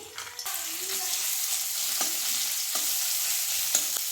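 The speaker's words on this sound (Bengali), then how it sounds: "জিরাটা ভালো করে ভেজে নিয়েছি" Cumin paste fries in oil in a wok with a soft, even sizzle, broken by occasional clicks and scrapes from stirring after an uneven start.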